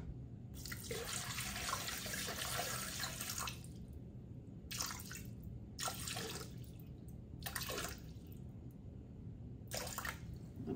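Lukewarm water is poured into a stand mixer bowl for bread dough, arriving in several separate bursts of splashing flow with short pauses between them over a low background hum.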